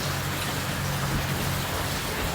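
Heavy rain and strong wind from Typhoon Ofel make a dense, continuous roar that stays loud and unbroken throughout.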